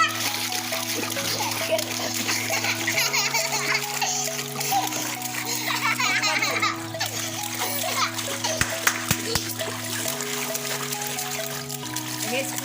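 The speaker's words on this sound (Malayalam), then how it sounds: "വെള്ളത്തിൽ ഇങ്ങനെ അടിച്ചു നോക്ക്." A child splashes and slaps water in a homemade bathtub made from an old wheelbarrow, a steady run of close, busy splashing throughout, with people talking and background music alongside.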